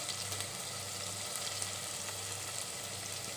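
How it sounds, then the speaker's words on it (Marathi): Ginger garlic paste fries in hot oil for Kolhapuri misal with a steady close sizzle and occasional stirring scrapes, continuous and fairly quiet, with no talk. "ही पण 2 मिनिटं चांगली भाजून घेऊया तेलामध्ये"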